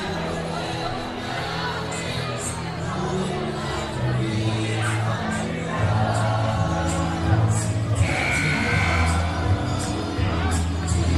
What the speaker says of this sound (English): The MMCRU student section still going strong, making plenty of noise.